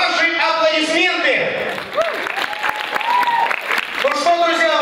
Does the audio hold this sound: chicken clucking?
no